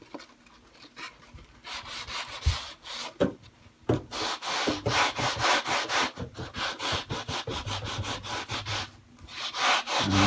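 A big sanding block rubbed along the fret edges of a Mini-Strat guitar neck: rapid back-and-forth rasping strokes, close and fairly loud, in bursts with brief pauses and a few knocks, no talking.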